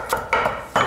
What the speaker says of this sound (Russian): и нарезаем вот так вот его полукольцами.